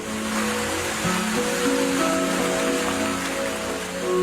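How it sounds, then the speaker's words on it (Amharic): Steady rain falling outdoors, a dense even hiss lasting the whole stretch with a faint low hum beneath and no voices. "ወይ ዝናብ መጣ"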